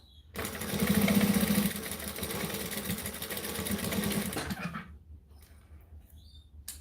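A sewing machine stitching utility belts runs in fast, buzzing bursts for about four seconds, loud and close, then stops into near quiet.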